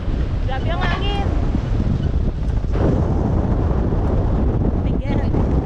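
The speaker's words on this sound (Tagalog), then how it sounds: "Grabe ang hangin." Strong wind buffeting a microphone on a boat off Boracay, a loud continuous roar filling the whole clip, with brief voices and chirpy sounds rising through it.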